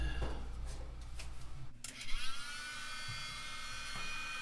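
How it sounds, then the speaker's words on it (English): Heat gun running close by as it warms stickers on aftermarket parts, a steady electric whir and fan buzz that shifts in tone partway through as it is moved, heard alone without speech. "So let's try getting these off of here with the heat gun."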